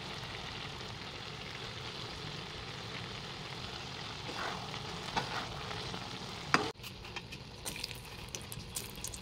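Cashews and raisins frying in hot ghee in a pan, a soft steady sizzle with faint stirring scrapes and a sharp clack near the end, quiet and close.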